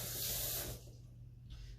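A kitchen tap runs while an apple is rinsed under it, a close hissing spray that drops off partway and then returns briefly, over a low steady hum.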